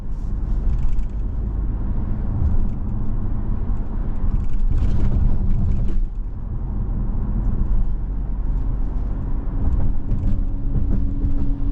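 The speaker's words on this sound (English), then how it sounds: "we're out on the road in this 25 RAV4 XLE premium trim with all-wheel drive" Steady road and engine drone inside a 2025 Toyota RAV4 XLE Premium with all-wheel drive while it is driven on the road. The low rumble and tire noise stay continuous and fairly loud, and nobody speaks.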